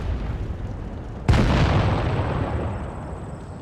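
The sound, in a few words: tank cannon firing in video game World of Tanks Blitz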